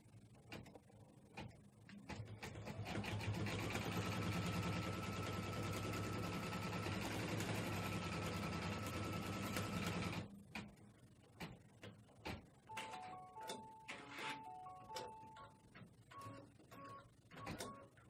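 Embroidery machine stitching a star outline for an appliqué, a loud rapid mechanical chatter running steadily for about eight seconds and then stopping abruptly, followed by scattered clicks, handling noises and a few short electronic beeps.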